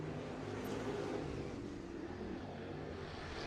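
Late model race cars roaring as they accelerate together at a restart on the Off Road Speedway dirt oval, a dense, continuous engine drone that stays loud and steady throughout.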